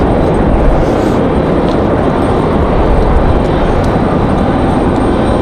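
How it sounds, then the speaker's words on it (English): A Southwest Boeing 737 MAX 8 arriving at Raleigh Durham International Airport in windy conditions makes a loud, steady engine roar mixed with wind rumble, heard continuously from nearby. "So Southwest 749 coming in from Austin, Texas. This is the 737 MAX 8"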